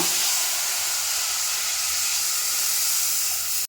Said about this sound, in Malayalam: ഇനി വെള്ളം ഒഴിക്കാം